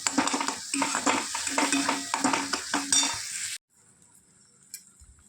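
A spoon scrapes and clinks rhythmically against a pan as a spice mixture for potato curry is stirred and fried in oil, with a soft sizzle under repeated strokes that stop abruptly, leaving near silence and a faint clink.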